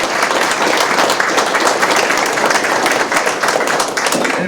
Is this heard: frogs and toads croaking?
no